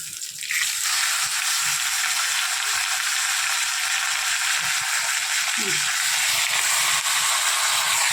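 Ash gourd frying in oil with dried chillies, bay leaf and panch phoron, a steady loud sizzle and hiss running throughout with occasional stirring and faint voices underneath.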